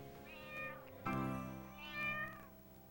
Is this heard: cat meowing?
yes